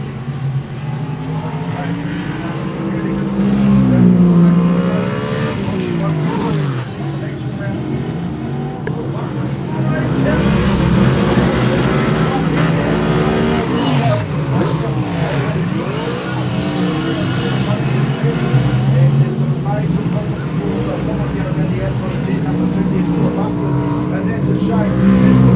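Race cars roar around a speedway oval, engines rising and falling as they pass down the front straight, loud and continuous beneath a race commentator's voice.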